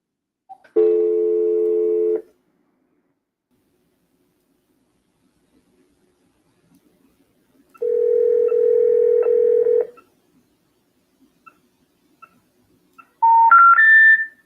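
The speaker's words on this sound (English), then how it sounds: "That was like beeping, sounded like a heartbeat." Telephone tones during an outbound sales cold call: two long steady electronic beeps several seconds apart, then a quick rising three-note chime, loud and clean over silence.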